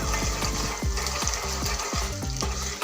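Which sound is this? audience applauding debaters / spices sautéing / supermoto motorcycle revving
spices sautéing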